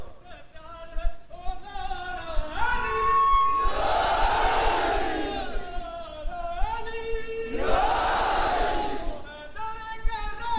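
At a 1994 religious memorial gathering, a large crowd roars back slogans in two loud, surging responses, each answering a single man's amplified call, echoing across an open outdoor space.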